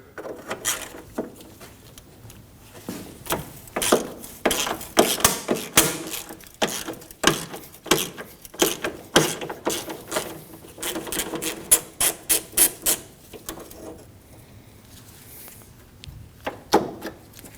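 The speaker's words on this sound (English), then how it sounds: "Now we can remove the radiator brackets with a 12mm." Clicking ratchet strokes from a 12mm ratchet loosening radiator bracket bolts on a 2003-2006 Subaru Baja with a 2.5L H4, coming as irregular bursts of close metallic ratcheting with short pauses and no talk.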